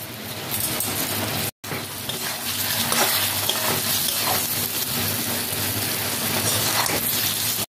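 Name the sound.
chicken with whole spices and garam masala being stir-fried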